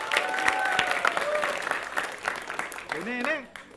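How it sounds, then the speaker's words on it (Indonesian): Applause and cheering for a student at a school event, mixed with lively talk and chatter throughout, with a voice rising into a brief excited call near the end. "tepuk tangan untuk kamu"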